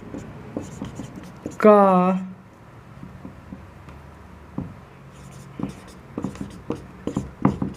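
Chalk or marker writing on a board during a Hindi-language science lesson, with short scratchy strokes in irregular bursts between stretches of a teacher's speech.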